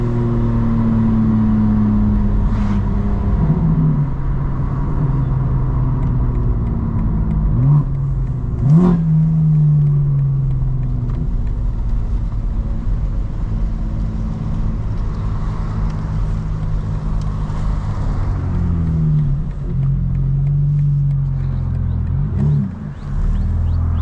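A 2025 BMW M4 CS with a modified aftermarket exhaust idles with a loud, deep rumble, with a few sharp blips of revving that swell and fall over a steady low drone.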